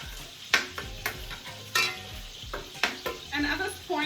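Sofrito sautés in a pot for arroz con gandules, with a soft steady sizzle beneath a series of sharp spoon scrapes and knocks against the pot, close and fairly loud.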